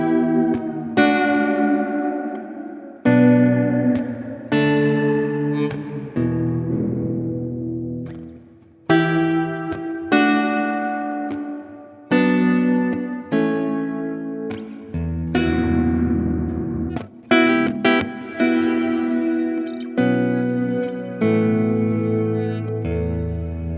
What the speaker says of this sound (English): So that's with the modulation on.